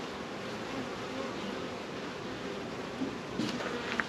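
Honey bees swarm around an opened hive in a dense, steady buzzing drone that fills the clip at a constant level. A few faint clicks and handling knocks come near the end.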